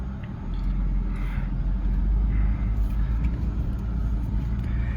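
A 2006 Lexus IS350 on the move, a steady low road rumble and engine hum from inside the cabin with tire noise, continuous and fairly loud with no talking.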